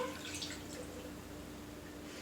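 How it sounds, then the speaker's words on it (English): Water poured from a can into tomato sauce, a soft continuous trickle and drip heard close and fairly quiet, steady for about two seconds. "I'm going to fill this about halfway up with water just to get whatever's left in the can"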